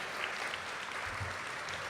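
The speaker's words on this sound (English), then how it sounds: "Y'all can clap." A luncheon audience at an awards event applauding, with dense, steady clapping from many hands filling the room for a couple of seconds.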